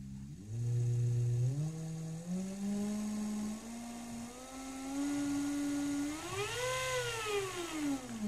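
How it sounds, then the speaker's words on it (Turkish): A DC electric motor used as a generator for a wind or water turbine runs at 5 volts, its quiet whine climbing in steps, then dipping and rising again, with a faint hiss behind it. "Bakın 5 voltta bile motorun daha farklı çalıştığını anlamanız mümkün."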